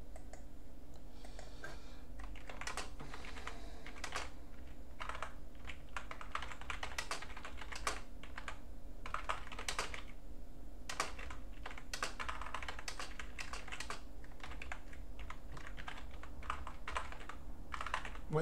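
Steady, rapid typing on a computer keyboard, dense clicks of keys with brief pauses, close up, over a low constant hum.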